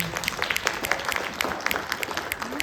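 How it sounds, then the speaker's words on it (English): Audience applause after a speaker thanks the United Way of Delaware president, heard as steady, moderately loud clapping from a room of people without a clear peak or end. "Give her a round of applause, please."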